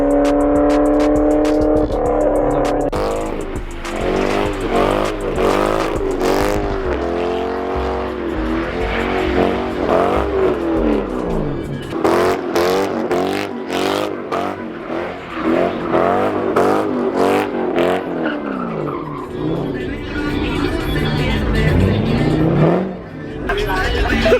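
Cars drag racing on a racetrack roar loudly, engines revving and climbing through gears in repeated rising sweeps, with passing bursts and crowd voices talking and shouting throughout.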